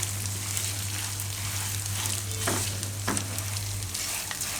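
Whole cumin and spices frying in hot oil in a pan for a soya nihari dish, a steady close sizzle and crackle throughout, with a couple of brief stirring scrapes and no voices.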